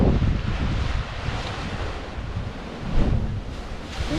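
Ocean surf surging into Thunder Hole in Acadia National Park, a continuous low rumble of waves with strong wind buffeting the microphone and a heavier swell near the end.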